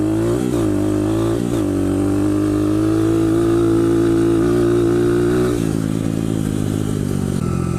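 A motorcycle engine revs steadily while being ridden, holding a loud droning pitch that climbs slightly and then drops with a gear change near the end, close and continuous.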